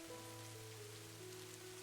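Steady rain falls in an even, soft hiss that never lets up, with gentle sustained tones held underneath.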